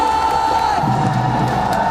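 Esports arena crowd at a PUBG Mobile World Cup finals cheering for teams Furia and Godlike, a loud, sustained roar of voices with whoops that swells partway through.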